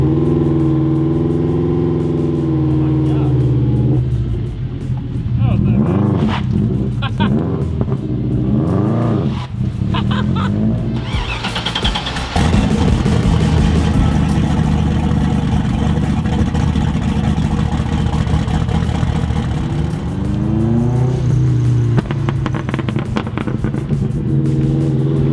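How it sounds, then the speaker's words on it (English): A Mazda Miata engine revs high as the car pulls away with the clutch slipping, a steady loud drone that climbs and drops in pitch through several gear changes, close and continuous. "You just gotta like rev it high, like don't be afraid to slip the clutch."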